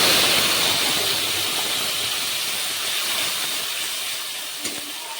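Spice paste hitting a hot pan of oil with bay leaf and panch phoron, a loud, dense sizzle that starts strong and slowly fades, heard alone up close.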